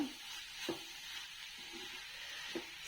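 Cabbage frying dry in a pan, a soft continuous sizzle with a few faint scraping stirs at intervals, quiet and steady.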